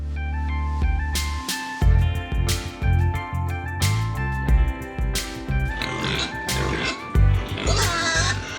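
Pigs grunt and oink in a slaughter and processing factory, repeated squeals and snorts close by over a musical backing, with a voice speaking at times.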